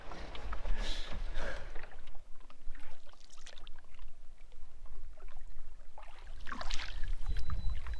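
Canoe being paddled on a calm wilderness lake in Wabakimi, rhythmic paddle strokes dipping and pulling through water with trickling drips, close and moderately loud, no talk.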